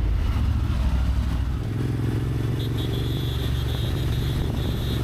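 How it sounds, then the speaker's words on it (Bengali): A motorbike engine runs and pulls away on the road from Siliguri toward Gangtok, a steady low rumble with a brief revving surge, close and loud throughout. "বাইক স্টার্ট দিল"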